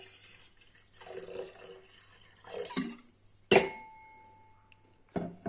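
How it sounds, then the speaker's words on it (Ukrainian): Boiled water trickles and splashes softly into a container, followed by a bright clink of glass and a faint ringing tail, then more light handling noise. "Я додаю воду переварену."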